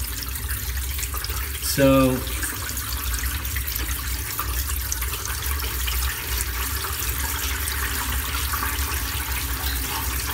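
A tap runs steadily into a small pool in a bathroom under renovation, a constant, fairly close water hiss lasting throughout, with a brief voice heard near the start.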